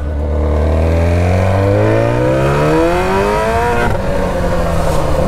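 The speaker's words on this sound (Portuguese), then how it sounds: "Mano do céu, que moto rápida." A BMW S1000 motorcycle accelerates hard on a highway, its engine note climbing steadily through the gears with a brief shift dip near four seconds, loud and close throughout.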